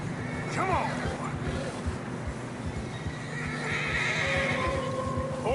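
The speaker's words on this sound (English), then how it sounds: "Horses are struggling." Video game horses struggling through deep fresh snow on a narrow path whinny and snort amid steady hoof clatter and wind, with a person's voice briefly under the noise.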